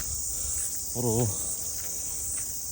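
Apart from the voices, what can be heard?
crickets chirping on Mount Maunganui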